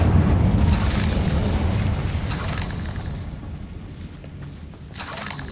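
An Incendio fire spell in Hogwarts Legacy makes a loud, sustained roaring whoosh of flame that slowly fades, followed by a fresh flare of burning noise near the end.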